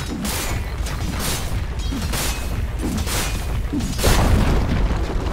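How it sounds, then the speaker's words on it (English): A tower crumbling in the Dota 2 video game: a steady, dense rumble of booms and crashing debris that swells louder near the end, heavy and continuous. "Dire's top tower has fallen."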